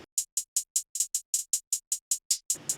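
Crisp drum ticks fall in a quick, even rhythm, about five per second, with a Pancake auto-pan effect swinging them subtly between left and right, alone and fairly quiet.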